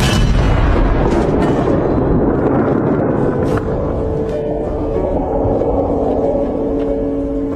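Heavy ship guns fire at a nearby vessel at sea, loud booming blasts and rumbling over a sustained noisy roar, with dense repeated impacts early then a lingering rumble.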